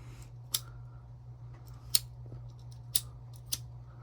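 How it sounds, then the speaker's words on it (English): Scissors snip through a fabric wallet panel, trimming the card or lining panel edge: four sharp, close cuts spaced irregularly over a few seconds, above a low steady hum. "we need to trim either the card panel or the lining panel"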